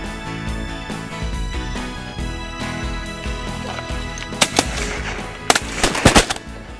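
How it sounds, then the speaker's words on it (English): Shotgun blasts during a duck hunt, a cluster of sharp loud reports near the end, with a couple of shots close together, over a steady background of engine-like drone and ambient noise. "shooting him on the way down"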